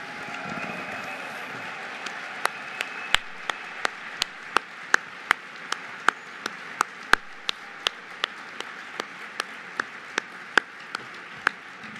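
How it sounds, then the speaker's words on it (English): Applause at a dinner gala for Tom G. Palmer, heard as a soft crowd murmur with sharp, regularly spaced claps cutting through close by, steady throughout. "Can we get one more big round of applause for Tom G."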